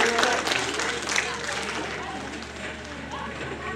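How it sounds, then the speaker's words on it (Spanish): Applause from a church congregation at a Christmas gathering, a broad, steady crackle of many hands that stays fairly loud before slowly thinning out, with a voice faintly mixed into the crowd noise. "¡Aplauso!"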